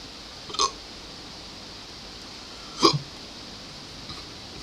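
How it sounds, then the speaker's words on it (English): Two sharp, short hiccups ring out alone against quiet room tone, spaced a couple of seconds apart, with a fainter third one later. "Man, I've got the hiccups."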